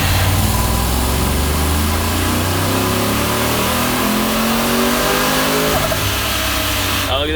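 A supercharged work van engine revving hard under boost on a dyno toward 6,000 RPM, a loud close roar with climbing tones that holds and then cuts off sharply near the end.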